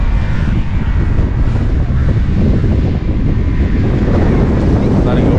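Strong coastal wind blasts across the Jaffna seashore at Pannai, where ships lie offshore. The gusts roar loudly and continuously straight into the microphone without a break.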